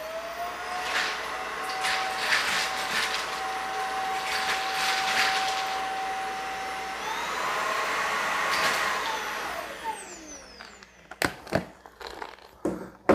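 Eureka Elevate cordless stick vacuum running steadily at high suction, a loud continuous whine with a pitch shift near the end, followed by a few sharp clicks and bumps as it stops.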